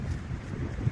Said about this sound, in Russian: Сегодня так у нас прохладно, ветер еще поднялся.